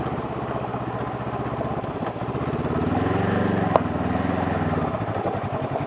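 Honda CL500 motorcycle engine pulling at low revs in second gear on a forest road, a steady throbbing rumble that swells slightly midway.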